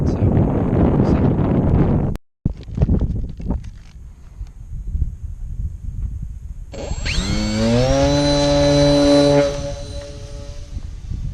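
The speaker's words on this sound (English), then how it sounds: "it's pretty windy out" Strong outdoor wind buffets the microphone with heavy rumbling gusts, joined later by the rising, sustained whine of a small RC airplane engine.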